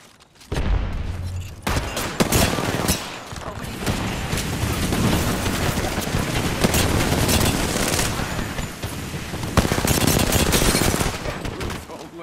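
Dense gunfire from a video game shootout, rapid overlapping shots and bursts rattling almost continuously for several seconds at steady loudness, with no clear speech over it.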